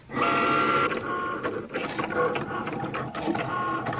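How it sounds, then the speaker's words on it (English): A Cricut cutting machine works through mats of heat transfer vinyl, giving a steady mechanical whirr close by with short motor shifts and clicks as the carriage moves back and forth, with no talking. "I'm gonna put these in my Cricut and get them cutting."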